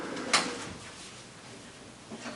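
A drawer slides open or shut with one quick, fairly faint knock near the start, then a quiet room with soft handling noises and no talk.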